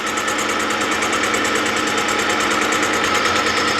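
A small milling machine runs steadily while skimming a tractor cylinder head, a constant loud mechanical whir with a fine rapid pulsing rattle and no pauses.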